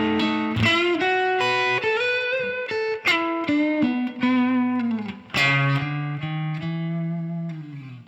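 A slow blues lick on a distorted electric guitar: sustained, bending single notes and short phrases, close and loud, ending on a long held low note that rings out, with no talk over it.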